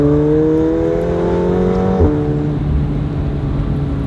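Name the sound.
McLaren 720S Spider accelerating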